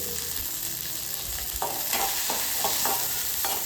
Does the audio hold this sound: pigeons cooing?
no